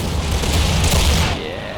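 Musket volley from elite Portuguese grenadiers firing out of a house in Empire: Total War, heard as a dense, rolling burst of booming shots that swells and fades over under two seconds, distant and rumbling.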